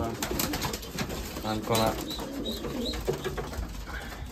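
Racing pigeons coo and call inside a loft during moulting season, a steady murmur of bird sounds close by, with a person talking over them.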